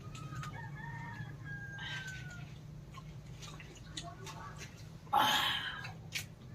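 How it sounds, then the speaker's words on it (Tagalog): A rooster crows partway through, a short strained call over a steady low background hum, with faint clucks and bird sounds around it in a rural Philippine yard where native chicken is being cooked. "Manok na yun."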